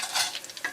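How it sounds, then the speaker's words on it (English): Chicken wings frying in hot oil, a short burst of crackling sizzle with bright spitting pops, close and fairly loud, no talk. "this is the last batch of the chicken that I'm frying"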